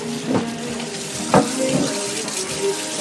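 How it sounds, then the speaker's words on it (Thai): Tap water runs steadily into a sink while a cutting board used for cleaning salmon is rinsed, a close continuous splash with a few louder knocks and spatters. "ขอไปล้างเขียงนะครับ"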